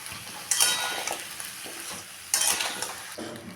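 Vegetables sizzle in a pan while they are stirred with salt and green chillies. Two sharp scraping bursts of a spatula against the pan stand out over a steady, close frying hiss.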